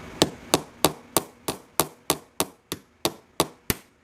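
Heavy-duty wire snippers are struck in an even rhythm to crack a cherry plum stone, a dozen sharp, close taps about a third of a second apart, with no talking.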